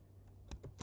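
Three crisp keystrokes on a computer keyboard land in quick succession near the end, close and clear over a faint steady hum, with no voices.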